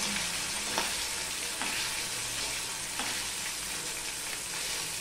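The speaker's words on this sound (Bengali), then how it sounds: "মাছ দিয়ে এইভাবে একটুখানি নেড়ে দিলাম।" Pieces of rohu fish fry in hot oil, producing a loud, continuous, dense sizzle with a few soft stirring scrapes of a spatula.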